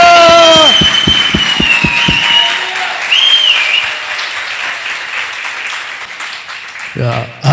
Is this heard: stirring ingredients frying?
no